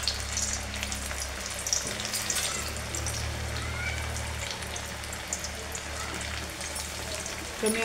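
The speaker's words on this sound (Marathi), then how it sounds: "तेल गरम झाले, वडे तळून घेऊयात आपण असं।" Shepu (dill) vadas fry in hot oil, giving a steady, close crackling sizzle with a low background hum and no talking.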